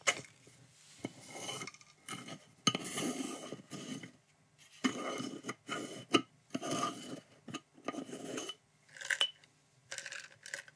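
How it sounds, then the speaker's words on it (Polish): Small stamps tumble inside a glass jar, producing clusters of light clinking and rasping taps against the glass, close and quiet, in bursts separated by brief pauses. "dźwięk tych stempelków, które przewracają się tam w środku. Ubijają delikatnie o szkło."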